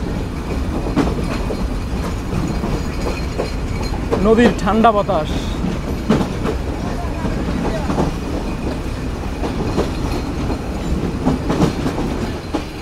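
Sundarban Express running fast from Dhaka to Khulna beside a river, a loud continuous rolling rumble and clickety-clack of wheels on rails from onboard, with a brief bit of talking partway through.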